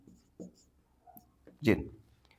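Pen or marker scratching out a word on a board or paper during a coordinate geometry lesson, a few short faint strokes then one louder scrawl, close and quiet.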